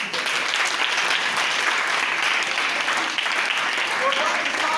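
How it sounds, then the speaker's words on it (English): A church congregation breaks into steady, loud applause, a dense sustained clatter of many hands clapping throughout, with voices mixed in. "Give a clap on to them."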